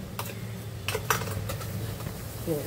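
Ground onion-coconut paste going into a pan for crab masala: close clinks and scrapes of a metal spoon against the pan over a low sizzle, several sharp taps in quick succession, no talking.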